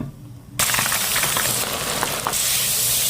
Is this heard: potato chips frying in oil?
yes